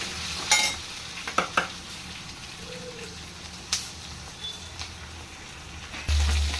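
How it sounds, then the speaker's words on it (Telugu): Chopped vegetables frying with asafoetida in a pan for a tamarind stew, a steady close sizzle with several sharp stirring clatters and a louder burst near the end. "ఫ్రై అవుతున్నాయి కదండి."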